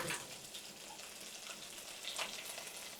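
Mustard seeds and cumin temper in hot peanut oil, giving a steady, faint sizzling hiss with scattered small pops and no talking.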